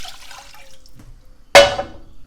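Water poured from a cup into a pot on a kitchen stove for pickling liquid: a sudden splashing gush near the end after quieter faint clinks, fairly close and alone.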